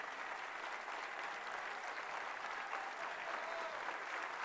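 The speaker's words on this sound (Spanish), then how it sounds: "para quien pido un aplauso, todos de pie." Assembly members in a legislative chamber give a standing ovation for Henry Ramos Allup, dense sustained applause from a large crowd, steady and even with no speech over it.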